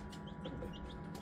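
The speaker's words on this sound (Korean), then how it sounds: "세상에서 가장 작은 닭이라는 세레마." Tiny Serama chickens, the smallest chicken breed, cluck softly in a brief burst of a few short, fairly faint calls at a home hatchery.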